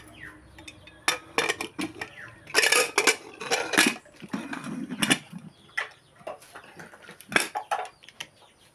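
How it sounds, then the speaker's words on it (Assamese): In a home kitchen, the lid of a pressure cooker holding masoor dal with colocasia stem and small tomatoes is fitted and locked. Irregular close metallic clanks, clicks and scrapes follow one another, with no talking. "এতিয়া কুকাৰৰ ঢাকনখন মাৰি দিম"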